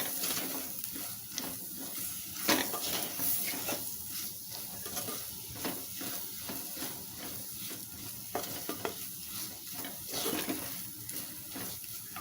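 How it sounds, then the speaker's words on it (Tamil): Ground spices such as chilli powder and garam masala sizzle in a pan for Tamil mushroom gravy, a steady close frying hiss with repeated scraping stirs, and no voices. "இப்போ இதையெல்லாம் நல்லா வதக்கிக்கலாம்."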